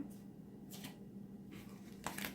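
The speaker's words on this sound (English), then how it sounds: "One more shuffle." Playing cards riffle-shuffled in a few short bursts, close by, over a low steady hum.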